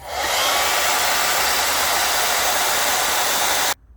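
A hair dryer runs steadily at close range, blowing to dry brushed-on clay slip on a pottery cylinder bottle, a continuous loud whoosh that cuts off abruptly at the end.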